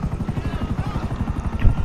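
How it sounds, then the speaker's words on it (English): A GTA V helicopter in flight throbs with a loud, steady, rapid rotor beat that stays close throughout. "fly the helicopter?"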